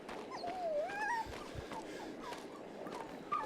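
A dog whimpers in the horror game Maid of Sker, with thin, rising whines that waver and repeat over a noisy, muffled ambient background.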